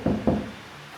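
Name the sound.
knocking on a hollow apartment door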